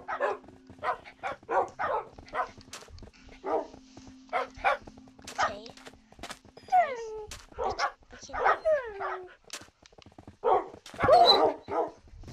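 Several dogs in the video game Minecraft bark, yip and whimper in quick bursts, some louder and closer, others fainter, scattered across the whole stretch with brief gaps.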